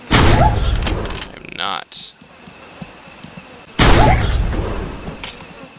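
Shotgun fire in the hunting game Deer Hunter 2014 on a phone: two loud booming blasts a few seconds apart, each with a decaying tail, and someone speaks briefly between them.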